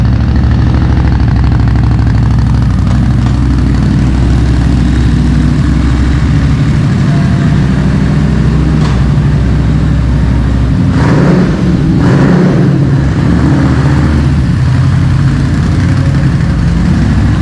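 A pre-owned Harley-Davidson Street motorcycle engine idles close by with a steady low rumble, briefly rising in a couple of small revs near the end, with no talking.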